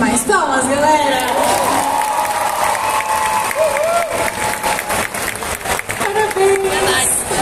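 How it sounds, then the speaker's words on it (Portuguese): A crowd at a CCXP 2022 cosplay contest bursts into loud, sustained applause with cheering and whoops for an award winner, while an announcer's voice carries over the clapping throughout. "Pedir mais palmas, galera!"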